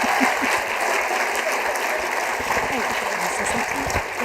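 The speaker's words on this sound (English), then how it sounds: "Let's keep the applause going, folks." Sustained applause from a large audience at an engineering awards ceremony for young women, steady and dense for the whole stretch, with a host's voice coming through briefly over the clapping.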